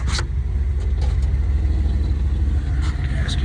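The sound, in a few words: 1958 Edsel hardtop car engine idling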